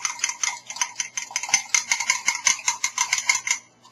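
Brownie batter being stirred in a bowl, with a spoon knocking and scraping against the sides in a steady, quick rhythm of close clinks throughout, and no talking.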